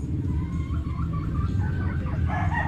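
Chickens clucking and young Boston Roundhead and SBR roosters attempting to crow, rough and uneven calls over a busy rumbling background.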